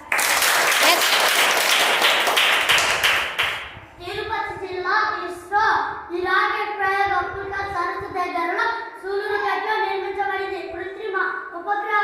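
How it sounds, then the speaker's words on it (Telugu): A classroom of fourth-grade children claps together loudly for a few seconds, then the applause stops and young voices take over. "క్లాప్స్"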